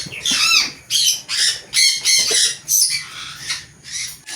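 Birds in an aviary let out loud, close, repeated harsh squawks in quick bursts, one after another, with no voices in between.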